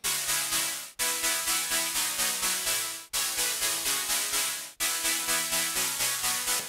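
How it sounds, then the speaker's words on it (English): A white noise lead synth from a remake of an EDM track pulses in short rhythmic bursts, each swelling and decaying in a steady pattern, with brief drops to near silence between phrases, loud and alone. "The next important part is the white noise lead"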